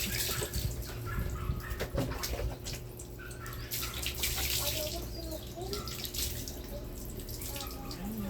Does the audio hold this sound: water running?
yes